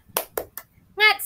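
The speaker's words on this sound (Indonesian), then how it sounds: "Kita tepuk semangat." Children do a rhythmic spirit clap (tepuk semangat) in a primary-school lesson: three quick, sharp claps spaced evenly, then a short voiced call.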